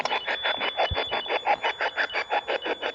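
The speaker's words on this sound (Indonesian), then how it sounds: "Ya, temperatur lagi-lagi berbunyi." Electronic temperature device beeping again in a quiet room, a steady run of short repeated bleeps at an even fast rhythm, fairly close and clear, with no talk over it.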